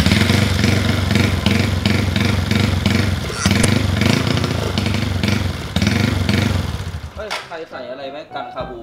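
A motorcycle engine runs loud and close with throaty revving, then cuts off near the end, leaving brief voices in the quiet.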